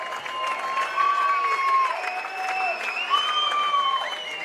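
Australian crowd at a men's IFCPF Asia-Oceania Championships football final, a steady wash of applause and cheering with a rising swell, while a commentator's voice runs over it.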